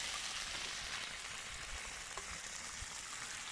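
Constant hissing sizzle of meat frying in a pan at a mountain campsite, close and even throughout, with an occasional faint pop and no voices.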